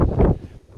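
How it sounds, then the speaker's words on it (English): Wind buffets a microphone outdoors beside a Ford Focus ST, a brief low rumbling gust that fades after a moment. "it's rather windy"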